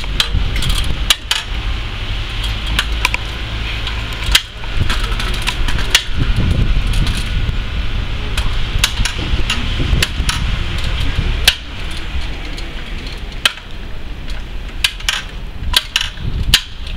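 Aluminium hinged folding transformer ladder (Werk 4x3) being folded back, with sharp metallic clacks and knocks of the joints scattered irregularly over a continuous low rumble, close and loud.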